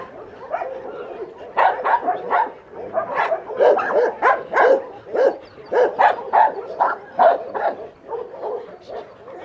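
Several dogs bark repeatedly nearby, a rapid overlapping string of yaps and barks with occasional whines and short gaps.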